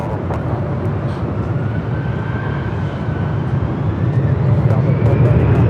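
A jet airliner at Los Angeles International Airport roars steadily during its takeoff roll on runway 24 left, a loud continuous engine rumble that swells toward the end.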